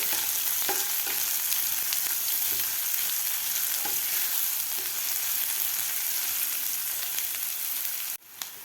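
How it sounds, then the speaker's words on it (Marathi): Chopped medium onions sauté in a pan with ginger-garlic paste for a pea-spinach dish, a steady, close, loud sizzle with light stirring throughout that cuts off abruptly near the end. "कांदासुद्धा आपल्याला दोन मिनटं व्यवस्थित परतून घ्यायचा आहे"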